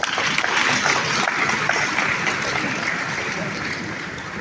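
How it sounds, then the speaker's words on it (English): Sustained crowd applause at a day-of-tribute ceremony in Lagos as Dr. Obi Ezekwesili is invited to the podium: dense, steady clapping from a large audience, fading slightly toward the end, with no voices over it. "Please let us applaud her"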